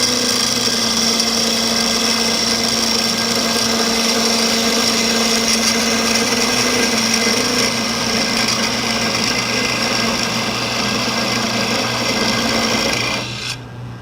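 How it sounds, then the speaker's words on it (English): A parting tool cuts into spinning wood on a lathe while making a toothpick dispenser, a steady loud rasping scrape over the lathe's motor hum that continues evenly and then cuts off near the end. "I can use a parting tool to establish that diameter right on my line"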